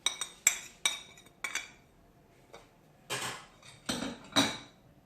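Poppy seeds and dry spices go into a cooking pot with a string of sharp metallic clinks and taps, separate strikes with short pauses between them, close and fairly quiet.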